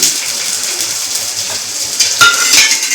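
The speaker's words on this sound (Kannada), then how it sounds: "ಇದನ್ನು ಕೂಡ ಫ್ರೈ ಮಾಡಕ್ಕೆ ಹಾಕ್ತಿದ್ದೀನಿ" Chopped garlic and onion frying in a pan while making masala puri, a steady close hiss of sizzling oil with a few faint clinks of utensils near the end.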